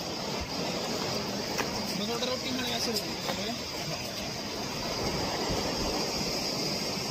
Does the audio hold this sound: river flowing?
yes